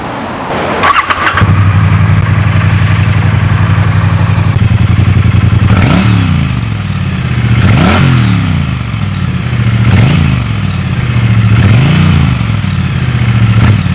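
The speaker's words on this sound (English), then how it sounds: "let you have a little sound of that beautiful engine and pipes" A Triumph motorcycle engine starts with a clatter, idles loudly, then revs repeatedly in rising and falling swells through the exhaust pipes.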